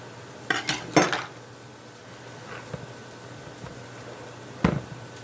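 A knife scraping and tapping against a bowl while dividing steak tartare burger mixture into patties, a few sharp clinks clustered early and one more later, with quiet pauses between and no talk.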